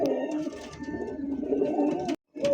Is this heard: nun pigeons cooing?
yes